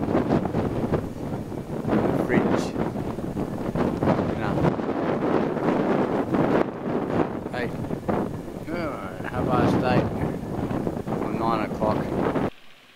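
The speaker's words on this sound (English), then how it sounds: "We're here in a windy spot." Steady, blustery wind buffets the microphone throughout, a loud continuous rumble with gusts rising and falling before it cuts off abruptly.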